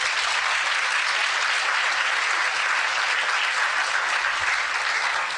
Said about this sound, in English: Please clap for her, because she did so much work.